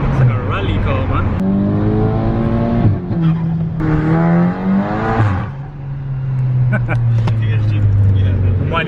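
A tuned VW Golf GTI engine revs up and down in several rising and falling sweeps, loud and close, with people talking over it between revs.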